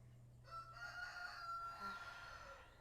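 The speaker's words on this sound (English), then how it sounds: "Allow yourself to be lulled by the soft rooster sounds in the background." A rooster crows faintly in the distance, a single drawn-out call over a quiet background hum.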